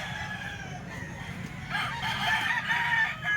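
A 10-month-old Boston gamecock rooster crows once, a strained drawn-out call rising over low background rumble and faint clucking.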